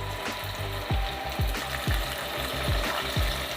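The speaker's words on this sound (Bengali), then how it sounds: "এবার আমি চিকেনগুলো এইভাবে ঝাড়া দিয়ে আবার তেলের মধ্যে দিয়ে দেব।" Chicken pieces, shaken and placed back into hot oil for KFC-style fried chicken, sizzle with a constant loud hiss, punctuated by a regular series of dull knocks and clicks.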